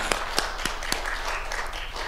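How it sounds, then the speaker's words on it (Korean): Congregation in a church gives a brief round of applause to thank God, a dense patter of hand claps with a few sharper claps standing out, moderately loud and close. "박수로 하나님께 감사합니다."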